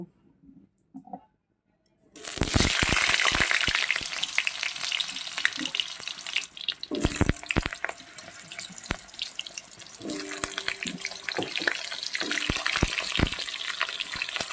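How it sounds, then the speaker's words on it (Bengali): Potatoes frying in hot oil in a wok, a loud steady sizzle that bursts in after a quiet start, with scattered clinks and scraping of stirring throughout and no talking. "কড়াইয়ে তেল দিয়ে দিয়েছি আলুটা ভেজে নেব"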